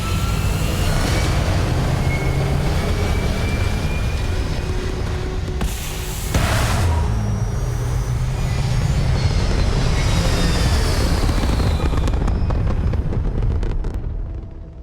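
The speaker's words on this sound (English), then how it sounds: "All thrusters firing." Spaceship thrusters fire in the video game Starfield, a loud, sustained roaring rush with sweeping tones and a brief surge midway. The roar runs throughout and thins out near the end.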